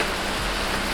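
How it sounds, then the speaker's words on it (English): Heavy rain pounds down in Langkawi as a dense, loud, continuous hiss, with no voices over it in this brief moment. "listening to the sound of rain just pounding"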